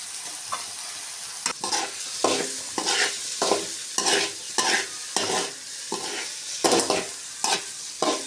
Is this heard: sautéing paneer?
yes